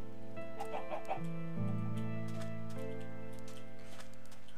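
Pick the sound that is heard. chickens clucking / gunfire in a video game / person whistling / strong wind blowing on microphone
chickens clucking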